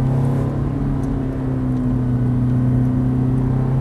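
Ferrari F430 engine droning steadily up close as the car brakes and drops to second gear, a low even rumble with a strong sustained hum and no clear rev spikes.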